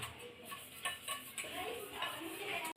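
Dishes are washed in a home kitchen, with steel utensils and plates clinking and scraping against each other in quick irregular knocks, close and moderately loud, with running water faint in the background.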